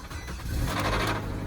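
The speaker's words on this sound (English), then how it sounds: "y'all hear that motor tapping?" A 2011 GMC Sierra Z71 pickup with 200,000 miles runs its engine up close in a brief burst, a low drone carrying a suspected motor tapping fault.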